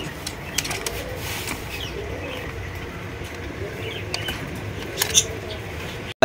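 Big Bombay pigeons at a pigeon farm give low, faint cooing murmurs against a steady busy background with scattered clicks and rustles.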